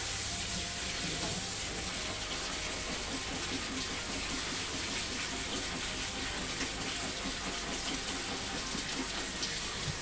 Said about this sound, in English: I'm gonna run some water over them